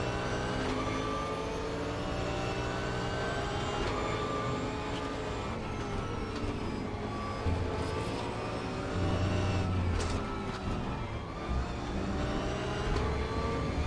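A Bentley race car's engine howls at full throttle in the RaceRoom racing game. The loud, continuous roar holds strong and close throughout, with its pitch climbing and dipping through gear changes.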